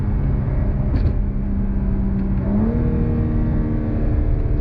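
A 2022 BMW M4 Competition with a twin-turbo six-cylinder, its engine droning loud and close from inside the car, then the pitch climbs in a smooth rev partway through and holds higher, with no voices.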